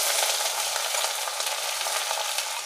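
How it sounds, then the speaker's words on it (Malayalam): Half a kilo of crushed shallots hit hot oil with curry leaves for a Kerala fish roast, a loud, dense, continuous frying hiss close by with no talk. "ഇനി നമ്മൾ എടുത്തു വെച്ച ഉള്ളിയാണ് ചെറിയ ഉള്ളി ചതച്ചതാണ് ഇത് അരക്കിലയുണ്ട് ഇത് ഇതിലേക്ക്"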